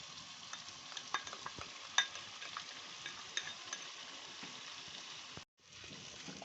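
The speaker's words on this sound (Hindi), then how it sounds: "अब हम इसको 1 मिनट तक तेज़ आंच पर भून रहे हैं" Beef boti pieces sizzling steadily in a pan with yogurt and browned crushed onion over high heat, a continuous close frying hiss broken by a few stirring scrapes and clinks.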